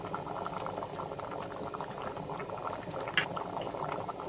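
Khichuri bubbles in a pot at a steady boil, a continuous close burble of popping bubbles with one small clink partway through.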